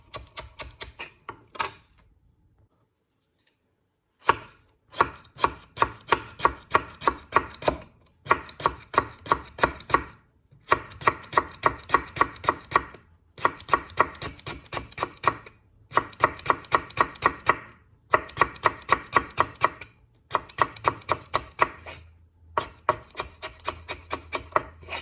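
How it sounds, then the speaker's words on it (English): A knife slices five lemongrass stalks at an angle on a cutting board, producing crisp, rapid rhythmic chopping strokes in bursts separated by brief pauses, close and clear. "So I slice all my 5 stalks of lemongrass"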